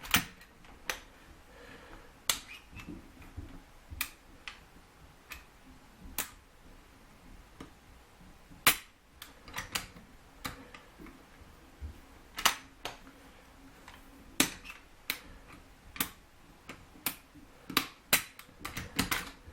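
An FN FNS-9 striker-fired pistol being dry-fired, its trigger pulled to give sharp, isolated mechanical clicks scattered irregularly across a quiet background, close and crisp with no talking.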